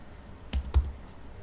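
Two or three light keystrokes on a computer keyboard in quick succession, close and quiet, with a brief pause before and after against faint room noise.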